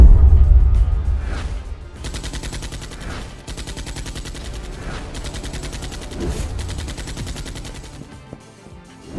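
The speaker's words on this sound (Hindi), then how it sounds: "फातिमा, फायर!" Rapid bursts of gunfire fill a staged shootout in a Hindi audio drama, dense crackling volleys running almost continuously after a heavy opening boom, loud and close with no talk over them.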